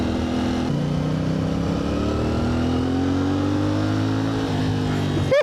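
A 450 dual-purpose motorcycle engine runs steadily and close, its revs climbing gradually over several seconds before a brief sharp blip at the end, with no talking.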